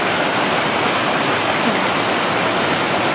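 High river water after a rainy summer near Ely, Minnesota rushes steadily in a loud, unbroken roar, like a waterfall, with no other sounds.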